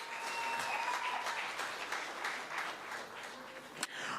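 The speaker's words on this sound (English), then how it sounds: "So that, ladies and gentlemen, should be followed by a round of applause" A hall audience at a University of Johannesburg sport gala gives a sustained round of applause, even and continuous, with a sharp knock near the end.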